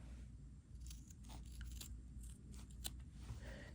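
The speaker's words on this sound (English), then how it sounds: "you're going to cut your corners" Scissors snip the corners of a small quilt in a quick series of faint, sharp clicks over a low background hum.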